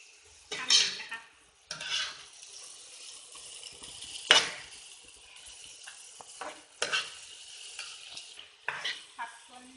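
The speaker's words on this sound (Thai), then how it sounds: "ผัดจนทุกอย่างสุกนะคะ" Drunken seafood spaghetti with shrimp, squid, shellfish, fingerroot and kaffir lime leaves is stir-fried in a pan, giving irregular bursts of sizzling and scraping stirs, close and moderately loud, with no talking.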